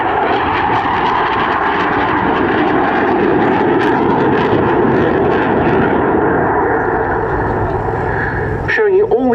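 Single-seat Rafale C fighter jet performing at an airshow, a loud continuous engine roar filling the scene, steady and powerful throughout with announcer speech mixed underneath.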